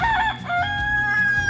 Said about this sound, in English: We've got all the chickens out here.